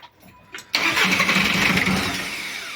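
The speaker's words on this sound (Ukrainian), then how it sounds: "Все, ми чуємо, стартер крути" After a couple of short clicks, a Volkswagen Touran's engine suddenly catches and roars up, then holds a loud, steady running rumble nearby.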